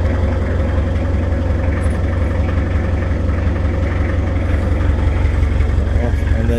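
A canal boat's engine running beneath the deck, a steady low idling throb with a regular pulsing beat, close and continuous, with talking over it.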